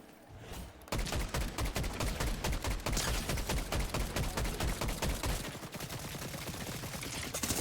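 Rapid bursts of shotgun and gunfire in the video game Fortnite, loud and dense, firing almost continuously for several seconds after a brief lead-in.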